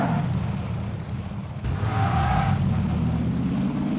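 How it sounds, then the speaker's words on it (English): In the game PUBG, a vehicle engine drones steadily at close range and shifts in pitch partway through as it seems to change speed, with no speech over it. "I hear another vehicle."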